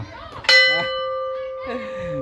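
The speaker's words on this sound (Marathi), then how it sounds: "तू उडी मारून घंटा मारत" A single loud strike of a large bell at the Rameshwar temple in Konkan rings out and sustains with a long, bright metallic tone, while voices talk briefly around it.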